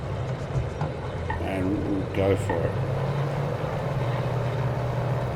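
A Fairey Swordfish Mk1 biplane's engine in Microsoft Flight Simulator holds a steady, loud drone as revs build for takeoff, with someone speaking briefly over it.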